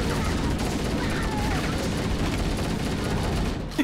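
Sustained rapid gunfire crackles through a firefight in the video game Halo: Master Chief Collection, a dense, continuous barrage with no clear pauses.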